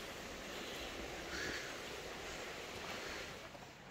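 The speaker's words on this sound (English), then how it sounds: "You can hear the river in the background." A river flowing steadily in the background at an Elkmont campground in the Great Smoky Mountains, a soft continuous wash of water noise, faint and distant, with no talking.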